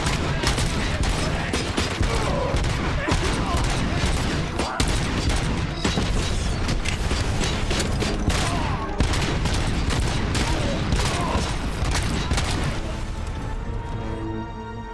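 Dense, continuous gunfire from a RoboCop: Rogue City shootout, loud rapid bursts and booming impacts packed together for the whole stretch, thinning slightly only at the very end.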